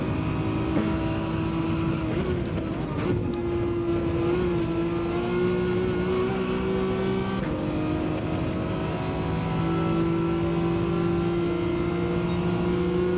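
A race car engine in Gran Turismo 7, driven in a race at Kyoto while chasing down an NSX, holds a steady, loud tone that shifts pitch with gear changes and throttle, heard alone throughout.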